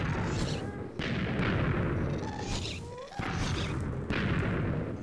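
Ghast fireballs explode again and again in Minecraft, a dense, rumbling barrage of booming blasts with brief gaps between bursts, loud and close throughout.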